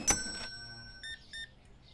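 Checkout scanner in the Supermarket Simulator video game gives several short electronic beeps, clean and bright, after a brief thump, with quiet gaps between them.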